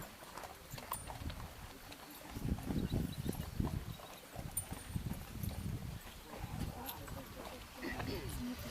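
Rhythmic clip-clop of horse hooves on the ground, moderately near, steady plodding steps with light wind in the background, during an outdoor Native American-themed riding show at a riding school.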